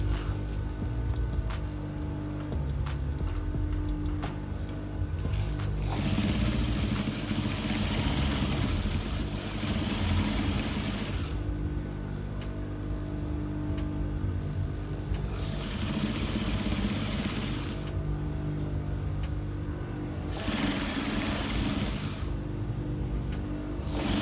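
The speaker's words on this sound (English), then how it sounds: "So all you need to do now is to top stitch again on this edge." A sewing machine runs top stitching along the edge of a 3-piece shirt back yoke, its steady motor hum broken into several long bursts with short pauses between.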